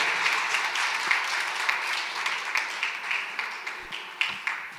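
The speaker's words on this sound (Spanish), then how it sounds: "Fuerte las palmas a Alison." An audience applauds after a child's song performance at a talent event. Steady, moderately loud clapping fills the room for several seconds with a few sharper claps on top.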